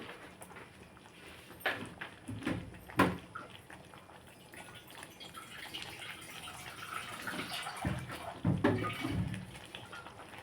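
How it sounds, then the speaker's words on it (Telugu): Water splashes and pours in short bursts into a cooking pot of moong dal and coconut, close by, with a few clinks and knocks in between; no one speaks. "కొంచెం వాటర్ వేసుకుందాం మనం"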